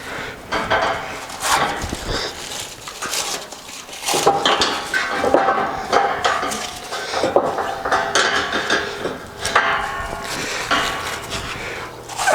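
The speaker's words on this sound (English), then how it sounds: "Get the plastic out. Turn the knife away before I cut myself." A knife cuts and strips plastic wrapping from welded steel storage rack parts, giving close, bursty crinkling and scraping with occasional clinks of metal.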